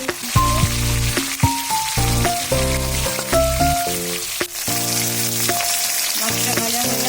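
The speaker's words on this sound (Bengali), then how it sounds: "মাছটা ভাজা হয়ে গেছে, আমি এবার তুলে নিচ্ছি" Rohu fish heads frying in hot oil in a pan, giving a steady, close sizzle that runs throughout beneath tuneful background music.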